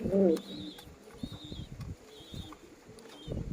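Foreign-breed pigeons in a loft give a short throaty coo at the start, followed by repeated thin high chirps, with a voice speaking in the background.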